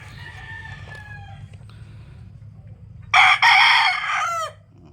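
A gamefowl rooster of the sweater breed crows once loudly and close by, a harsh rising call lasting over a second, over a steady low background hum with faint clucks earlier.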